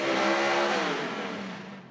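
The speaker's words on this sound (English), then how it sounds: "Second gear burnout for Brendan Hogan." No-prep drag racing car at Toronto Motorsports Park, a stick-shift doing a second gear burnout: a loud, steady high-revving engine roar with tire scrub that holds, then slowly fades.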